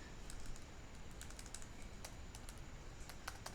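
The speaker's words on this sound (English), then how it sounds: "then I'll type" Rapid typing on a computer keyboard, quick light key clicks in an uneven run over faint background hum, close and soft with no voice.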